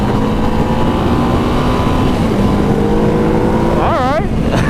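A 2015 EBR 1190 SX super naked motorcycle engine runs at high rpm, a loud continuous roar with a quick rising and falling rev burst near the end, and a voice talks over it.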